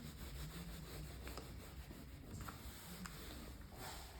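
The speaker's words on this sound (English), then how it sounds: "Then you want to use your seam roller again. So just roll across the seam line." A seam roller pressed and rolled across an acrylic foam tape seam joining two aluminium pieces, giving a continuous low rubbing, grinding drone with faint periodic ticks, steady and close.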